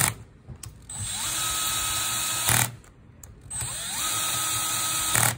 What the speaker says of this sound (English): So we're just gonna tighten down these jaws.